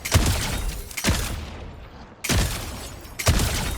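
Loud video game gunshots from a high-damage, slow-firing weapon: four sharp, booming single shots spaced about a second apart, each with a brief decaying tail, alone without talk.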